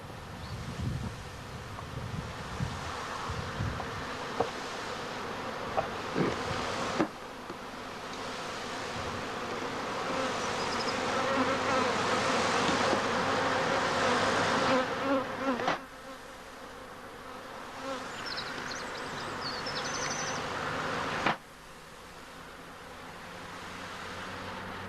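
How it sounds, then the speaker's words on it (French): Honey bees buzz steadily at a hive during the summer honey harvest as full supers are lifted off, a dense close swarm drone that swells and drops in abrupt steps, with some wind rustle. "Inlassablement tout au long de l'été, les abeilles ont accumulé leurs provisions."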